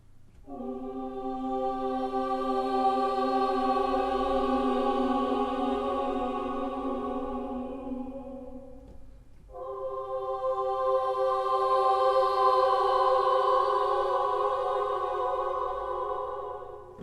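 Two long sustained tones from the Spitfire Audio Contrast dark diverge close articulation, each a rich harmonic held note that swells and fades, separated by a short gap, heard alone and fairly soft.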